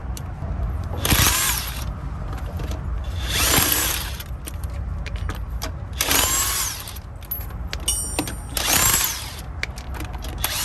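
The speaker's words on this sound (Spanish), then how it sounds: "Vamos a utilizar un taladro de impacto con un cubo de 3/8" Four bursts of an impact drill with a 3/8-inch socket removing Toyota Tacoma rear shock absorbers, each lasting about a second, spaced a few seconds apart over steady low mechanical background noise.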